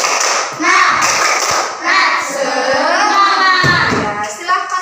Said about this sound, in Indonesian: tepuk semangat dulu untuk kelompok 3